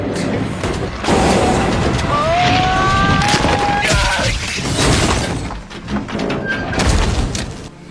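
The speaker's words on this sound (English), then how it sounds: "One of the tires suddenly bursts, and the car instantly spins out of control." A car tire bursts and the vehicle spins out of control, a loud roaring rush of engine, tire skid and crashing noise with tonal squeals, sustained and close, mixed with a narrating voice in a film scene.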